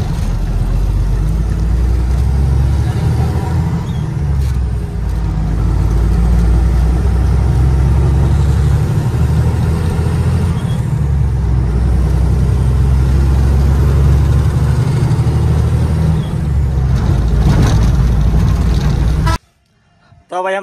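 A goods truck loaded with tomatoes rumbles steadily through the town of Nadiad, its loud low engine drone continuous with traffic noise around it, a horn tooting briefly, before the sound cuts off near the end.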